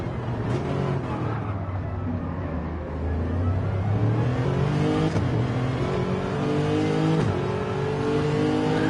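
Racing cars on track during a league race, engines droning loudly and continuously with rising and falling pitch as they shift and rev downhill toward a corner, several cars blending together without pause.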